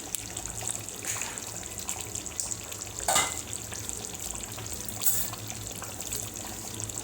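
Chicken for chicken angara sizzles steadily in a pan, a constant close frying hiss with occasional louder spits and stirring scrapes, no voices.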